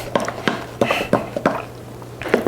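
Cake batter being stirred in a mixing bowl after all-purpose flour is added for carrot cake, giving a series of close, irregular scrapes and knocks of the spoon against the bowl, steady but unhurried, with no talking.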